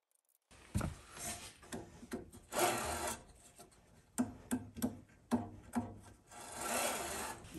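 Longer screws, 5 mm longer than the originals, being snugged up by hand on the transmission of a DIY fiber laser tube cutting machine: close, repeated rasping and scraping turns broken by short pauses.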